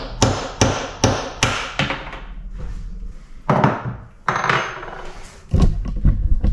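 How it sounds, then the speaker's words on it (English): A hammer taps sharply on a punch, knocking out the knockout of a granite composite sink again and again in irregular bursts, each hit ringing briefly, close and fairly loud. "I'm just gonna use a small punch and a hammer"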